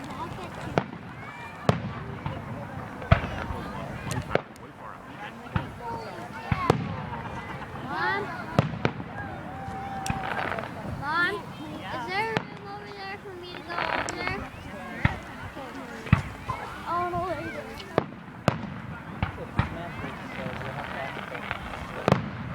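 Fireworks pop and bang repeatedly at irregular intervals, sharp reports some distance away, with people chattering and cheering throughout.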